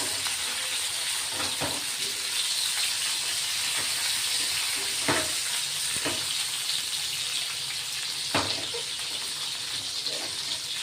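Stuffed green chillies frying on a griddle pan over medium heat, a constant hissing sizzle with scattered sharp pops and crackles, close up and without talking.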